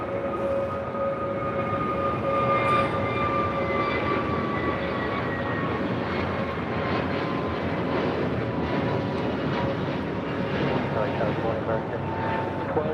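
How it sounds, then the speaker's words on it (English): An American Airlines A321neo jet, Flight 2766 bound for Dallas–Fort Worth, takes off at LAX with a steady, loud roar and whining engine tones that hold throughout, while people talk over it. "That flight, by the way, taken off was American Airlines Flight 2766 heading to Dallas, Fort Worth, Texas, in an A321 Neo"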